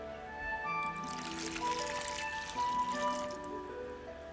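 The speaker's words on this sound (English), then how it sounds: "water" Water streams into a pot of Lao bamboo soup, a light continuous trickle and splash heard up close over soft background music.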